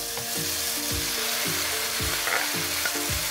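A piece of seasoned beef for Jamaican pepper steak frying in hot oil, sizzling loudly and continuously as a test piece, with low tonal hum and periodic swelling sounds throughout.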